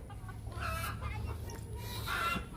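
A hen clucks and cackles on a Thai farm, two bursts of squawky calls separated by a pause, heard fairly close over a steady low background hum.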